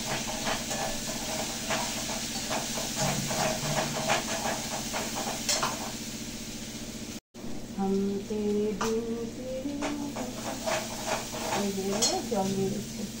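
Water poured into a hot pan while cooking niramish paneer with chillies sends up a steady sizzle and hissing steam, with light stirring and utensil clatter throughout and a brief cut midway.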